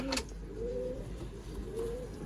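Soft, low coos from a pair of rare Hen breeder pigeons roll out in two gentle phrases over a steady outdoor hum, with a brief sharp chirp near the start.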